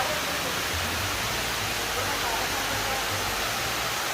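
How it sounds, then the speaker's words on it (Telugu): Amruthadhara waterfall in the Maredumilli forest of Andhra Pradesh, a steady broadband roar of falling water at an even level from start to finish with no breaks. "సో ఇది అన్నమాట వాటర్ ఫాల్స్."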